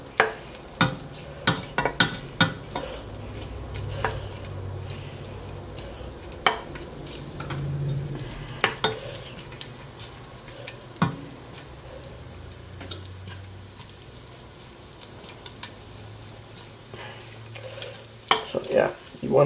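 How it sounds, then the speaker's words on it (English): Shrimp with Cajun spices cook in oil in a pan, giving a soft continuous sizzle broken by scattered sharp ticks and clinks of a utensil against the pan. "So we're just going to let this cook to release its oils and spices."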